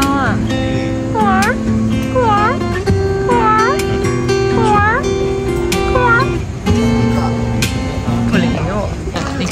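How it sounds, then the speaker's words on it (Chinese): An alley cat in a street meows repeatedly in rising and falling cries against steady background music and a voice talking. "又看到了一只巷子里的猫"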